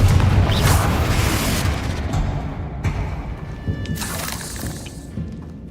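The Confringo fire spell in Hogwarts Legacy bursts with a loud booming, shattering blast that decays into crackling debris and scattered thuds, followed by a few smaller impact hits and a faint lingering tone.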